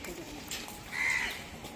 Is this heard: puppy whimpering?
no